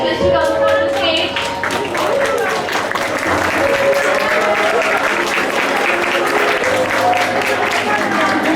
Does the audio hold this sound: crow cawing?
no